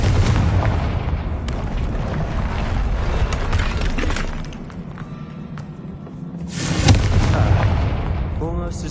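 A Confringo fire spell explodes in Hogwarts Legacy with a heavy, booming blast and rumbling roar, then a second burst follows over the game's ambient sound.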